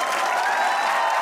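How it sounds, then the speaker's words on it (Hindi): Studio audience at a televised comedy talk show applauds, a steady dense wash of many hands clapping at even loudness throughout with no distinct voices. "तो बजाइए तालियां"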